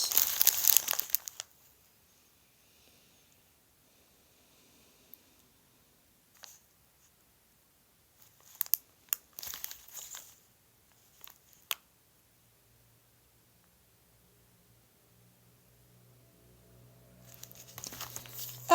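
Paper slips being stirred and shuffled by hand inside a box before a draw, giving a burst of crinkling and rustling at the start, scattered brief rustles in the middle and more rustling near the end, with quiet gaps between.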